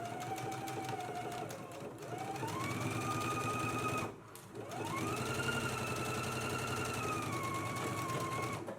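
A sewing machine stitches a 5/8-inch seam allowance on a dress, a close, steady motor whir and needle chatter whose pitch rises and falls with speed, briefly easing off near the middle before running on.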